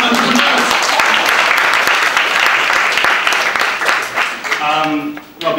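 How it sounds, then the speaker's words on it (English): Loud, full room applause for young entrepreneurs at a University of Waterloo entrepreneurship panel: a sustained wash of many hands clapping that holds strongly throughout, then tapers briefly near the end. "So, a round of applause for the young entrepreneurs."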